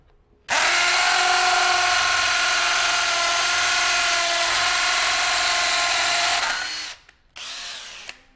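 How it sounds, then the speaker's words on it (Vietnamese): A Worx cordless drill runs in hammer drill mode, giving a loud, steady high-pitched whine with a rattling buzz for about six seconds. It then cuts off, and a brief second burst follows. "Giờ mình sẽ test ở chế độ khoan búa"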